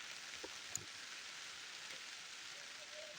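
Rain falling in a forest, a faint, even patter and hiss of drops that runs steadily throughout with no speech.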